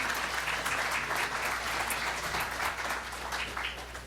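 Audience applause for candidates at a 2025 federal election candidates event in Surrey and White Rock, a dense, even round of clapping from a seated crowd that fades gently toward the end.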